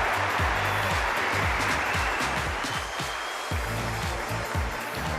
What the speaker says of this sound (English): Rasping applause for all four players for this mixed doubles final